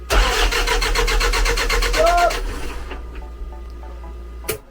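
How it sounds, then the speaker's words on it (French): A car engine cranks over rapidly for about two seconds in a repair-training setting, the starter churning loud and rhythmic but never catching, then it cuts out, leaving faint clicks and a brief knock near the end. "comme vous pouvez vous rendre compte, le moteur ne démarre pas"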